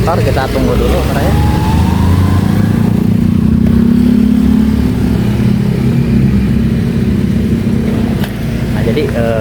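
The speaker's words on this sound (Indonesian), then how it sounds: "Banyak motor, kita tunggu dulu" Motorcycles rumble past close by in a narrow village alley, their engines steady and loud throughout, with someone talking over the traffic noise.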